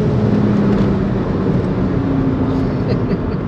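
A BMW 116d fitted with a swapped-in 30d diesel engine roars under hard acceleration as its wheels spin, giving a loud, steady drone that carries through the whole stretch.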